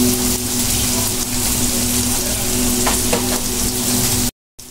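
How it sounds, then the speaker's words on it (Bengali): Onion and garlic frying in hot oil until brown, a steady close sizzle and crackle running continuously with faint stirring scrapes and no voices. "এখন এটা ব্রাউন কালার করে ভেজে নেবেন না?"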